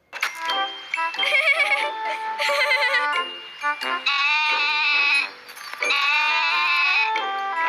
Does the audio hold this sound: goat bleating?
yes